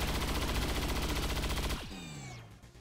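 Rapid automatic assault rifle fire in the XCOM 2 video game, a loud sustained burst with dense rhythmic shots that cuts off abruptly, followed by a ringing, falling tail.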